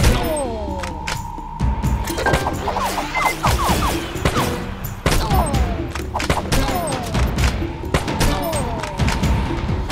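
Repeated enemy gunshots from a Major Mayhem shooting game ring out in rapid, overlapping bursts, loud and close, with sharp cracks and thuds layered over one another throughout.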